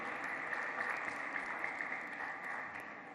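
Faint, distant audience applause for the Vice Chancellor at the UNIMED UCOHUB launch: a brief wash of many hands clapping steadily, softening slightly toward the end, with no voices.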